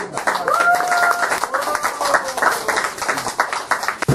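Audience clapping during a Korean speech and poetry recitation class, brisk rhythmic hand claps from a room of people with voices and exclamations mixed in throughout.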